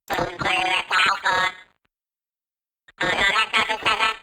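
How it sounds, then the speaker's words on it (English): Vocals run through a frequency shifter moving everything down by 400 Hz, giving a warbly, unnatural, slightly robotic quacking tone in two short sung bursts separated by a pause. "In this case, it's taking all the vocal material and shifting it down by 400 Hertz."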